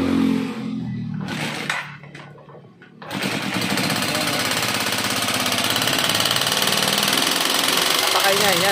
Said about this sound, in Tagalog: So napakaingay ng makina nito.